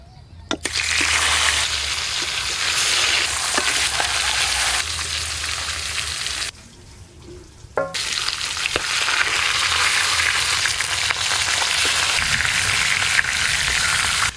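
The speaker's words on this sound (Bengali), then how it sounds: "যে বাকি মাছগুলো আছে একবারেই সব ভেজে নেব" Pieces of pomfret fish sizzle and spit in hot oil in a pan, a loud continuous crackling broken by a short quiet pause, with occasional clinks and stirring.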